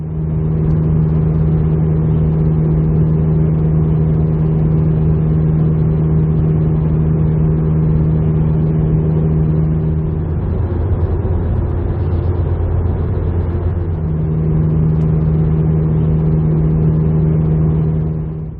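A Baun Performance catback car exhaust drones steadily at highway cruising speed while towing a trailer, a loud, constant low rumble with road noise throughout.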